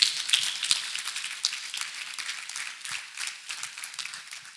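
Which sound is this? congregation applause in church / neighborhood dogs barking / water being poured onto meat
congregation applause in church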